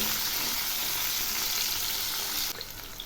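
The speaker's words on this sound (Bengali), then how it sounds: "এবার আমি দিচ্ছি টুকরো করা হাফ টমেটো, একটু নেড়ে দিচ্ছি। এগুলি হালকা করে একটু ভেজে নেব।" Chopped tomato frying in oil with cumin seeds for a Bengali fish curry, a bright, continuous sizzle up close that drops abruptly and turns quieter near the end, with faint stirring and no speech.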